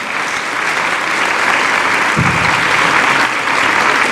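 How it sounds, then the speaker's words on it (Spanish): Steady applause from an audience fills the room, a dense, continuous patter of clapping that holds at the same level throughout. "Vamos a darle un fuerte aplauso"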